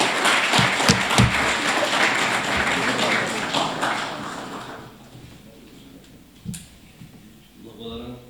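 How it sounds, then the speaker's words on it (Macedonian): Applause at an award ceremony for a philosophy book prize, with a dense burst of clapping that dies away after about five seconds and leaves a quiet room with a few stray knocks. "Аплауз."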